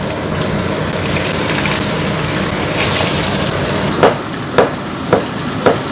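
Dough coated in sweet potato flour fries in hot oil with a continuous sizzle. Several sharp utensil taps or stirring knocks come near the end.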